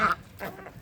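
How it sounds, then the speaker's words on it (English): Ducks quacking in a garden after heavy rain, a brief burst of several calls close by at the start, then softer scattered quacks continuing across the short stretch. "All that noise behind me are the ducks."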